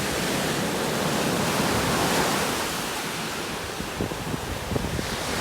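Ocean surf rolls onto a beach on a warm, windy day, a loud broad wash of breaking water and wind buffeting the microphone, with faint thumps toward the end and no voices.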